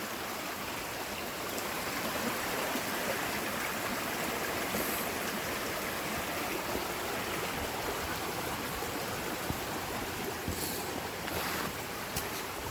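A mountain creek runs beneath a small log bridge, its steady rushing babble filling the whole stretch at an even level, with a few faint knocks and footsteps on top and no talking.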